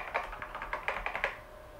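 Quick run of keystrokes on a computer keyboard at a vintage NABU computer, about eight crisp clicks in an uneven rhythm, close and fairly quiet, then stopping.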